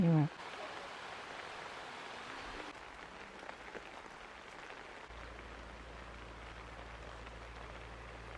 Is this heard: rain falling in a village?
yes